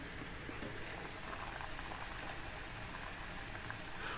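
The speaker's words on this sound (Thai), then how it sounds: "มาดูทางด้านซุปเรานะคะ กำลังเดือดปุดปุด" A pot of soup boils hard on the stove in a home kitchen where fish is also frying, giving a dense, steady bubbling hiss that runs unbroken throughout, with no one talking.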